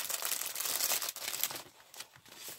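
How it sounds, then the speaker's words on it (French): Plastic packaging of a diamond painting kit being opened, a brief burst of close crinkling and rustling that eases into softer handling noises. "Alors ensuite, on va déballer."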